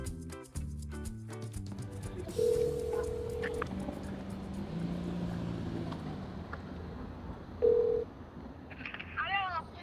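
A telephone dialing a call gives two short electronic keypad beeps several seconds apart, heard under a voice and a low rumbling vehicle-like background.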